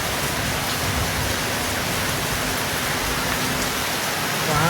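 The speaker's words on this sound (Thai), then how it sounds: "พายุฤดูร้อนลูกเห็บลงเม็ดด้วยนะคะ" Summer storm with hail falling on a hot day, a steady dense wash of rain and hail striking surfaces and window glass, loud and continuous without pause, no voices.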